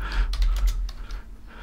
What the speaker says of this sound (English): When you want to get it, you just type in here fragmenting arrowhead